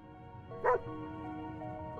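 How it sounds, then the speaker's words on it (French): A dog in the video game 60 Seconds Reatomized gives one brief bark or yip over a low, steady game background. "Oh le chien."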